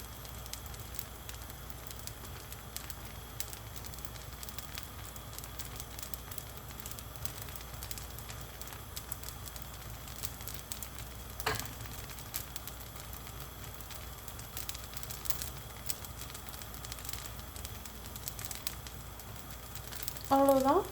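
Chopped onion, tomato, green chilli and curry leaves sizzling on an uthappam on a hot griddle, a faint, steady crackling hiss that runs unbroken, with a brief clatter near the end.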